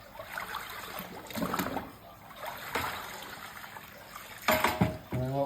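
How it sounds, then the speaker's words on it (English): Water rinses through car manifold pipes with a soft, uneven trickling and gurgling that swells and ebbs, ending in a few louder sloshing splashes, close and without talk. "With a rinse, get anything out the pipes."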